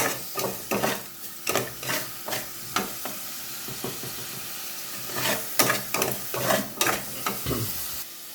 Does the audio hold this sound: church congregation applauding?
no